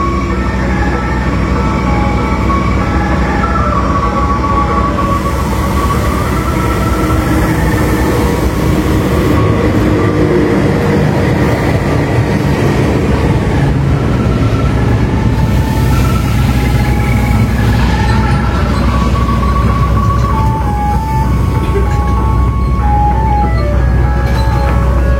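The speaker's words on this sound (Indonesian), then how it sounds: "persiapan masuk di jalur 1 kereta api Argowilis dari Surabaya Gubeng tujuan" The Argowilis train pulls in on track 1 at Tasikmalaya station, a loud sustained rumble of wheels and cars with rhythmic rail clatter and squeals rising and falling over about 25 seconds, with no speech.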